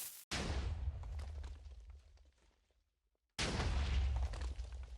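Minecraft WarGear cannon in a video game firing with heavy, booming explosive blasts and crackling debris, two loud bursts separated by a decaying rumble and a short near-silent gap.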